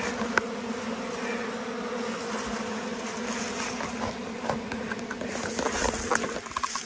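Wild bees buzz inside a cave being cleared for honey, a close, dense drone that holds steady throughout, with occasional sharp knocks and rustles over it.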